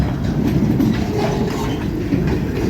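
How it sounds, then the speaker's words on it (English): ELS locomotives 1221 and 400 pull a train northbound on a 90° day, making a loud, close, continuous rumble with steady clickety-clack of wheels on rail. "I'm on the other side of the train"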